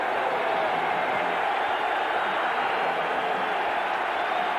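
A record crowd of 96,704 in the stadium at a 1992 Miami at Penn State college football game keeps up a steady, broad roar of cheering that does not let up.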